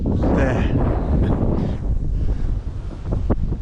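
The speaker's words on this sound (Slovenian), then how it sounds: "Pa še piha, lejte, veter lahko odnese." Strong wind blows outdoors, roaring and buffeting the microphone in loud gusts that ease slightly toward the end, with a faint sea-like wash beneath.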